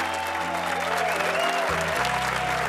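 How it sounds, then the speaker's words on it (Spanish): Sustained, dense applause from a live audience at a stand-up comedy monologue, steady and loud throughout with no voices on top. "me encanta que me aplaudáis tanto"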